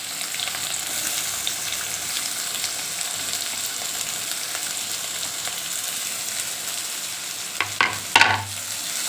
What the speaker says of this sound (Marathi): कांदा गोल्डन होईपर्यंत आपण चांगला फ्राय करून घेऊया याच्यात।